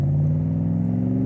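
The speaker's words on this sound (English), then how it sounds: "Just downshifted there, third, second, first." A 1965 Shelby Cobra Superformance V8 drones close and loud through a quick downshift, a steady low engine tone that rises slightly in pitch.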